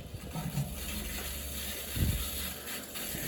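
Water rushing and gurgling into newly installed HVAC piping at a training facility, a continuous wash with a brief thumping surge midway, heard alone.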